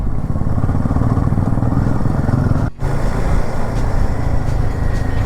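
A motorcycle rides along on a Delhi to Spiti road trip, its engine droning loud and close with a steady churning rumble, briefly dipping for a moment midway before resuming at full strength.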